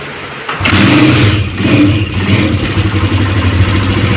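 A Honda CG 125 motorcycle with a misfiring engine starts after a short lead-in and settles into a loud, close, uneven idle with irregular chugging and clatter, no talk over it.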